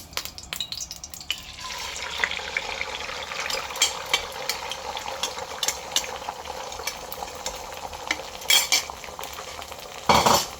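Egg sizzles in a hot wok while a utensil scrapes and taps against the metal in quick irregular strokes, close and busy, with a sharp clatter near the end.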